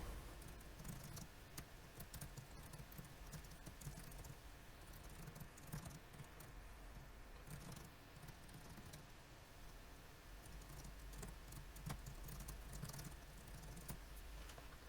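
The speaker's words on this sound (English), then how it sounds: "I'm going to type up a few things about this triangle." A computer keyboard typing text into a PowerPoint 2016 slide, faint scattered key clicks spread across the stretch under a steady hiss of background noise, with no speech.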